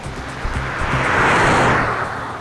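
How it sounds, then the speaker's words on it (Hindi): A car driving fast sweeps past in one swelling whoosh of engine and road noise. It builds to a peak in the middle and then eases off, loud and close, with no voices. "रजत, गाड़ी तेज है।"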